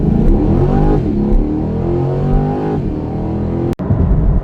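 Chevrolet Corvette C8 accelerating hard with traction control engaged, a loud sustained engine roar rising in pitch through the gears with a brief dip at a shift near the end.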